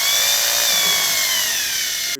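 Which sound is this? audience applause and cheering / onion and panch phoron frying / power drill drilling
power drill drilling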